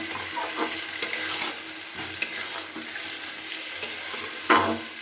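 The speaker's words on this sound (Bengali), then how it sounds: "একটু হলুদ, জিরের গুঁড়ো আর লঙ্কার গুঁড়ো আর একটু মটরশুঁটি দিয়ে খুব ভালো করে এটা নাড়াচাড়া করে নিচ্ছি" Spiced potatoes with turmeric, cumin, chilli powder and peas are stirred in a pan, with a steady soft sizzle and a few scraping strokes, one louder scrape near the end; no talking.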